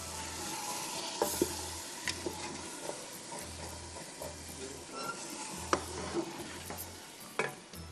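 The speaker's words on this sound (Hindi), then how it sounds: "थोड़ा पानी डाल के 5 मिनट भून लीजिए।" Dal frying and sizzling in a pan, a steady hiss broken by repeated scraping stirring strokes and small clinks, close and moderately loud, with no voices.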